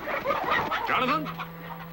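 Chickens cluck and squawk inside a hen house, several birds close by in agitated, overlapping calls over a couple of seconds.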